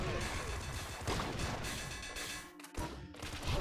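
The explosion hammer weapon in the video game Nuclear Throne Ultra Mod sets off a run of crashing, booming blasts and clattering impacts, fairly quiet and layered over one another, with a voice talking at times.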